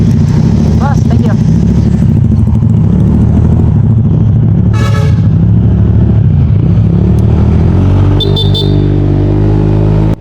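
A Honda Click 125 scooter with a new exhaust pipe and remapped ECU pulls away in a loud, steady, close-up engine drone, while a person talks over it throughout.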